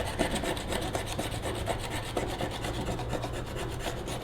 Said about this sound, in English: Might scrape a bit of that off.